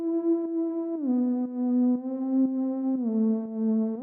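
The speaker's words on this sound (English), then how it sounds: "Then we can introduce some harmonies with a top lead, just playing like long sustained notes" A synth top lead for an Afro tech track holds long sustained notes, stepping down in pitch every second or so, with a soft, smooth, steady tone and no talking.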